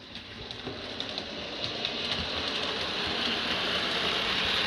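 A steam-outline parcel train rolls into the station on a model railway layout, a steady broadband rushing clatter of wheels on track that builds slightly louder as it draws nearer, with no voices.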